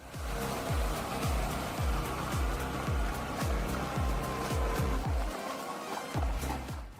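Zetor 7300 tractor with a turbo pulling massive logs through dense forest, its engine thumping in a steady rapid pulse under a broad rumble of strain, close and continuous with no speech.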